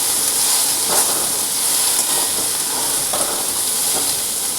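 Pumpkin frying in oil with green chillies and five-spice, giving a continuous loud hiss and sizzle close by that stays even throughout, without any voices.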